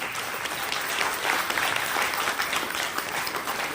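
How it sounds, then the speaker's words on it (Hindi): A seated crowd at a Hindi motivational business seminar bursts into loud, sustained applause, many hands clapping densely and evenly throughout, with almost no voices over it. "जोरदार तालियां सबके लिए बनी चाहिए"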